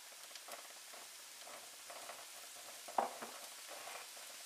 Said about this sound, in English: we'll take our mushroom, throw our mushrooms in there